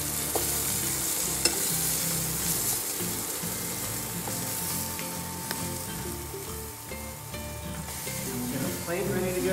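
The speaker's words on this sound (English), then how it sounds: "We're just going to flip these guys one more time." Zucchini pieces sizzle in a hot pan while being flipped: a loud, continuous frying hiss with a few sharp clicks and taps from turning them, set against a low background bed.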